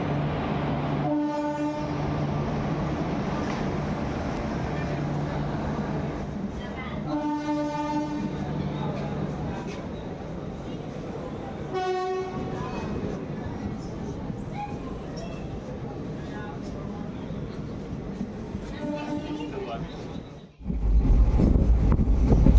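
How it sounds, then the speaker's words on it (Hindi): A train pulls into a station with a heavy, steady rumble and rolling clatter, its horn blasting in several separated bursts over the noise, before a sudden louder roar near the end. "आ गई है ट्रेन"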